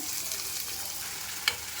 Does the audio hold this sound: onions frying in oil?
yes